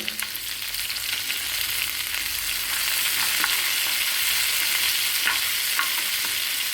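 Seasoning frying in ghee in a pan for curd rice, a steady close sizzle with soft stirring scrapes running evenly throughout, no voices.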